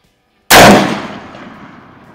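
A single loud, sharp gunshot from an Izhmash Saiga .223 AK-pattern rifle fired at an outdoor range, a close crack followed by a long fading echo and no speech.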